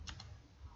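Two quick, faint keystrokes on a computer keyboard during a Linux server lab, close and soft over a low background hum.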